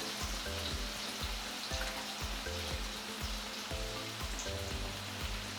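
Garlic and onions sautéing in a pan for a homemade paella give a steady, soft sizzle that runs throughout beneath rhythmic background music.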